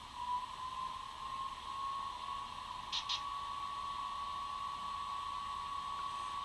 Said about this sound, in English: You'll hear the fans and the compressor kick on.